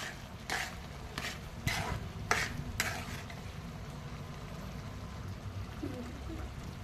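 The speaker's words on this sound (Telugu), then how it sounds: "మొత్తం కలిసేలాగా కలబెట్టుకోవాలి." Spoon stirring a tomato pachadi mixture in a pan, with several close, evenly spaced scraping strokes over a low steady background, then a quieter stretch.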